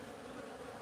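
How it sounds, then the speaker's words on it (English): Swarm of bees massed at a house soffit, a soft continuous buzzing drone heard briefly and faintly at some distance, no voices. "There's a lot of bees here, Reed."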